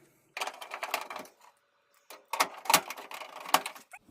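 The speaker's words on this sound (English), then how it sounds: "I'm going to put those 2 screws in the top where I took it out earlier" Screws being driven into the top panel of a Samsung microwave: two short bursts of close, clattering mechanical whirring and rattling, separated by a brief pause, with no talking.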